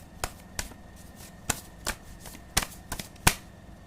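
Tarot cards are shuffled and cut by hand, giving sharp, irregular riffling snaps and taps, close and fairly crisp, with no one speaking.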